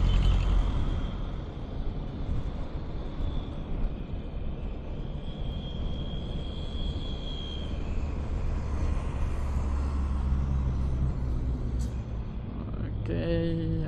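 Vehicle noise on a rural road in North Buton, a steady low engine rumble and road roar lasting throughout, with a faint whine in the middle and a voice speaking near the end.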